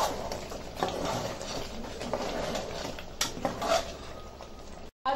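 Mutton masala with kasuri methi and lemon juice is stirred in a pan, a spoon scraping and clinking against the metal in irregular strokes over a soft sizzle, close and fairly quiet.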